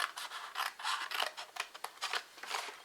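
Scissors snip through paper card while a milk carton table favour is cut out, a quick run of close, crisp cuts in short bursts with brief pauses between them.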